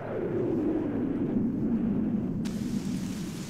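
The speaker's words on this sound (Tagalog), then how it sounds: "Umuulan na. Tag-ulan na." Steady cartoon rain hisses evenly throughout, a dense broadband wash with a slight shift in texture about two-thirds through, in a Tagalog-dubbed Doraemon scene with no talking.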